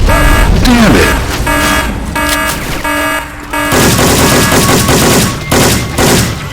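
Syphon Filter weapon sound effects firing in Left 4 Dead 2, loud rapid bursts of gunfire with repeated shots packed close together, layered over a dense game soundtrack with tonal music running throughout.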